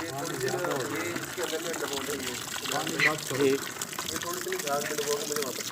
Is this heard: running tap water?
yes